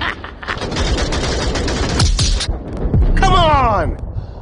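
Loud bursts of rapid automatic gunfire in the VR shooter Onward, rattling shots packed together for several seconds with a player's voice shouting over the fire.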